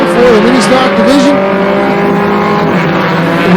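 Mini stock race cars under green at Flamboro Speedway drone loudly as a pack, engine notes wavering and revving steadily through the lap, with a commentator's voice faintly mixed beneath the noise.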